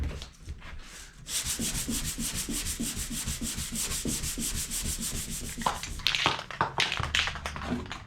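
Rhythmic back-and-forth hand sanding of a Pontiac Vibe with 320 grit sandpaper, a steady scratchy rubbing repeated quickly, close up, with a few taps near the end.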